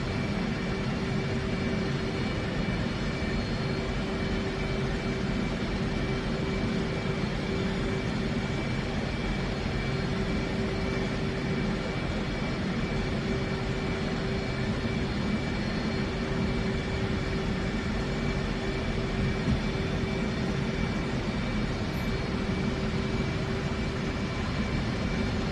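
F-18 jet engine spooling up to flight idle during a cold start in the DCS flight simulator, a steady loud whine and roar holding evenly throughout with no voices.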